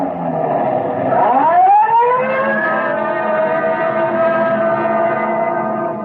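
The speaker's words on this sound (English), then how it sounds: "Code 3, red light and siren." A loud police siren winds up in pitch and then holds a steady, sustained wail, close and continuous with no talking.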